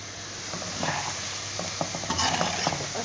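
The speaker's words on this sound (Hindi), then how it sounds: "मैं इसमें थोड़ा सा और चम्मच चलाऊंगी।" A spoon stirs potatoes frying in oil over a full flame for an aloo fry, giving a steady sizzle with scattered clinks and scrapes against the pan, close and continuous.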